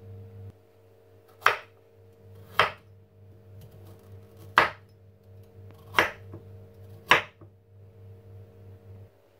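Garlic and onion chopped into small pieces, five sharp knife strikes spaced a second or two apart, close and distinct over a low steady hum, with no talk.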